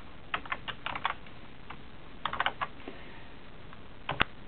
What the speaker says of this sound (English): and then we can start typing